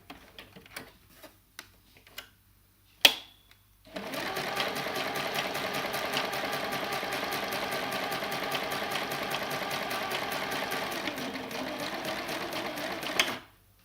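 A home sewing machine stitches printed fabric for a lavender cushion, first with a few separate clicks and taps, then a steady close whirring hum running about ten seconds before it stops.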